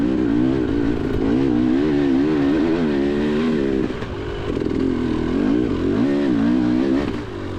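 A dirt bike engine revs hard and continuously on a steep hill climb at an off-road race in Clay City, Kentucky, its loud, wavering pitch rising and falling close by after a downshift.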